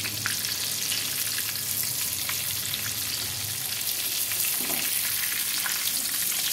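A chicken cutlet fries in a pan with a continuous close sizzle and crackle of oil, with occasional small pops and faint stirring.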